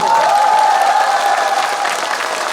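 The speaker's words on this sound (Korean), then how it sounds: "안전요원분들한테도 박수 한번 치겠어요" Crowd applause at an outdoor beer festival concert, a dense sustained clapping from a large audience with a faint sung or sustained tone running through it.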